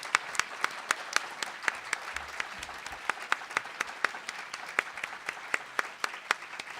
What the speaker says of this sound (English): let's have some real applause here